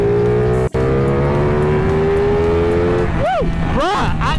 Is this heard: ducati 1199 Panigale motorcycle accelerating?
yes